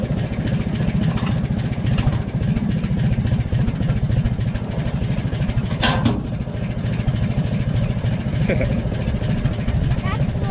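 An Oliver 99 tractor engine chugs slowly in first gear, a steady, near, rumbling idle-like beat running throughout with a brief metallic clank partway.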